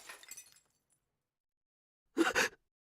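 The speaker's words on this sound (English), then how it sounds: "Was that the sound of breaking glass?" Glass breaking in the next room in the video game CHAOS;CHILD: a short, loud burst of crashing and clinking shards that follows a moment of silence, after a faint earlier rustle.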